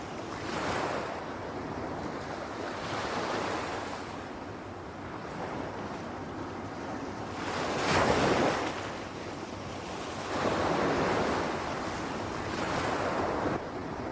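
Ocean waves in a Yakuza video game roll in steady, broad surges of surf, a continuous wash swelling loudly around the middle and again later, with wind-like hiss and no voices.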